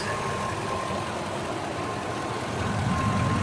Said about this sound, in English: Underneath the hood, you can hear the engine idle smoothly.